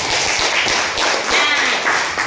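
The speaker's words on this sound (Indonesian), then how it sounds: "Tepuk tangan untuk kita semuanya" Rapid clapping from a group of people in a classroom lesson, brisk and fairly loud, with voices mixed in among the claps.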